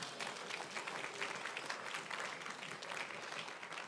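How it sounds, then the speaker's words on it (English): Audience applauds a minister at a Bureau of Gender Affairs Outstanding Father Awards ceremony. The clapping is dense and continuous and stays fairly distant and soft throughout. "Give Minister a round of applause."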